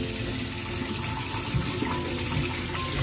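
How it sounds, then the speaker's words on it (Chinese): Tap water runs steadily into a kitchen sink as a fish scaler's cover is rinsed after cleaning a fish, a loud, continuous splashing wash with no talk. "挖鳞器的盖子拆下来洗一洗"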